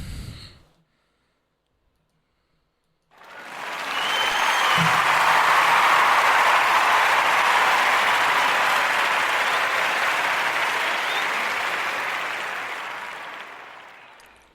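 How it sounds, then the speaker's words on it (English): A studio audience bursts into a sustained round of applause after a brief quiet pause, loud and steady for about ten seconds before tapering off. "a round of applause to everyone who hung in here with me tonight."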